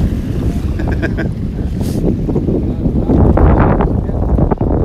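Ocean waves wash onto a beach in North Naples, Florida, under strong gusting wind, a loud, continuous rushing roar with heavy wind buffeting on the microphone.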